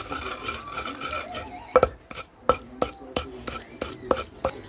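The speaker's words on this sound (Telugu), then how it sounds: "మెత్తగా నూరేసుకోవాలి ఉప్పు కూడా మెరిగిద్ది బాగా మెత్తగా నూరేసుకోవాలి" Spices and salt ground finely by hand: sharp, irregular knocks and gritty scraping repeat close by, with quieter rubbing between the louder strikes.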